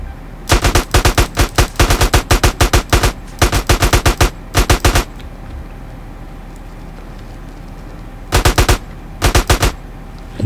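Rapid automatic gunfire from a video game, loud and close, coming in several sharp bursts of quick repeated shots with quieter gaps between them and no talking.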